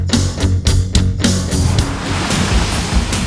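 Waves slap and rush against a boat crossing the Malacca Strait, a series of loud splashing bursts early on that settle into a steady churning wash of water.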